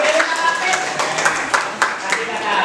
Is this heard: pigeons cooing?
no